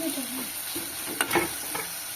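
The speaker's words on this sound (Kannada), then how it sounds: "ಟೊಮೊಟೊ ಹಾಕಿ ಒಂದು ಸ್ವಲ್ಪ ಹುರ್ಕೋಬೇಕು" Tomatoes stir-fried for sambar in a pan give off a steady sizzle, broken by a few brief scraping stirs near the end.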